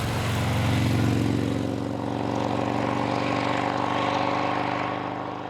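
A 1950s Vincent 998cc V-twin motorcycle runs steadily and loudly close by, its deep, throbbing engine note holding an even drone throughout with no voices.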